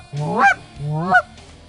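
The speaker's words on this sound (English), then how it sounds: "The Adrenaline was actually the very first short reed goose call that we prototyped" Two loud, close honks from a short reed goose call, the Adrenaline model, each rising and breaking sharply at the end, separated by a brief pause with no talking.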